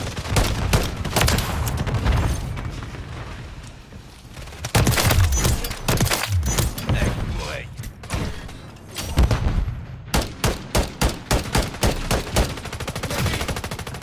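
Gunfire in the video game Modern Warfare 3, with dense bursts of automatic fire and sharp repeated shots coming in loud clusters, the last few seconds a run of evenly spaced single cracks, with no voices.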